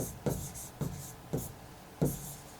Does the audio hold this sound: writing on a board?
yes